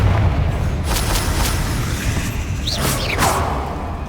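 A booming magical blast from the Confringo spell in Hogwarts Legacy, a heavy rumbling explosion with whooshing bursts and crackling debris, loud and sustained with no talk.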